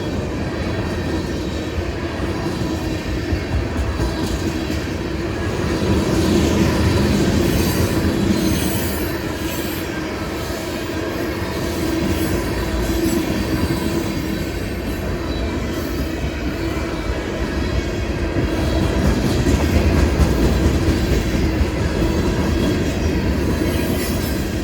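Model train rolling steadily past with new metallic midnight blue and white CSX hoppers, a continuous close rumble of wheels with faint clicking and squeal across the whole stretch, no voices.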